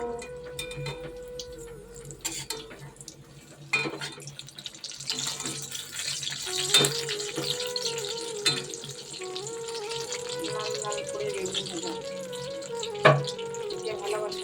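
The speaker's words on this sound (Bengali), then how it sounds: "এখন বাসন মাজা হয়ে গেছে" Dishes being washed at a kitchen sink under running tap water, with clinks and scrapes of utensils over a steady splash and a voice talking nearby.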